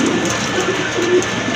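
Pigeons kept for sale coo in a low, rounded murmur, with two soft swells of cooing over steady room noise and no talking.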